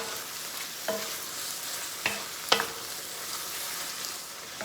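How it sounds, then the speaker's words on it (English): Diced Roma tomato sizzles in a pan for Cajun maque choux, a steady frying hiss with a few sharp utensil taps and stirring scrapes. "Now we're coming in with that diced Roma tomato."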